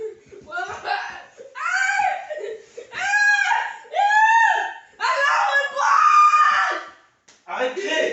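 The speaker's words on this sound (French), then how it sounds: "Arrête de crier!" A child screams in long, shrill, repeated bursts broken by short pauses, close and loud, mixed with giggly laughter.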